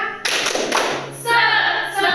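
A primary school class claps a rhythmic spirit clap together in a classroom, a burst of overlapping hand claps and thumps lasting about two seconds, with voices chanting along.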